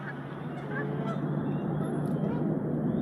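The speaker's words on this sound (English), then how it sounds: "Quacking Canadian geese. They're absolutely everywhere." Several geese honk repeatedly over a steady outdoor background hum, their calls moderately close and overlapping.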